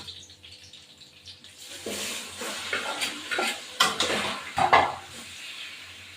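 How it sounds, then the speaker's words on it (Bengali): Chicken pieces added to a pan of spices fried in hot oil, a sizzle that swells abruptly and carries on with clattering stirs and scraping of utensil against pan, close and fairly loud, with no talk. "এবার আমি মাংসটা দিয়ে দেবো"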